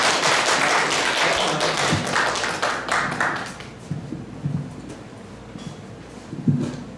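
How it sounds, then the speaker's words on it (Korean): Audience at a climate crisis emergency action launch event applauding to welcome an atmospheric scientist lecturer: scattered hand claps and taps, loud at first, then thinning out to a few isolated claps. "다시 한 번 더 큰 박수로 모셔보도록 하겠습니다"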